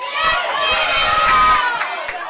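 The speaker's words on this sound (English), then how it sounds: "the crowd is really livening up" A crowd at a women's senior cup football final, Fremington FC against Plymouth Marjon FC, shouts and cheers in a loud, swelling burst that fades toward the end, with excited voices mixed into the roar.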